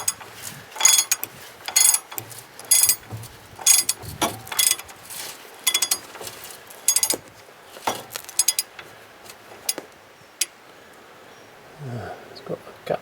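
A socket wrench ratchets on a bolt on Ford Ranger Mk3 front suspension, giving rapid clicking bursts in irregular spurts with clinks of metal, close up amid workshop handling noise.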